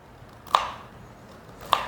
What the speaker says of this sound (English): I'm going to chop the other one, and I'm chopping them pretty thin.